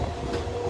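A Kakinada Port–Vijayawada MEMU Express train runs on rails near Tadepalligudem, a brief steady rumble of wheels and carriages with no talk.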